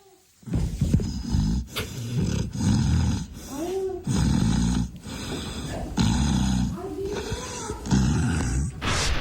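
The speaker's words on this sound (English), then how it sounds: "Instantly starts snoring." Repeated deep, rasping snore-like grunts come in a slow, regular rhythm, loud and close, each breath a heavy guttural rattle.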